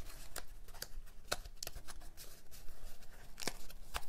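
A cardstock box lid being folded by hand along score lines, a run of crisp crackles and sharp creases scattered over a soft paper rustle, close and without talk.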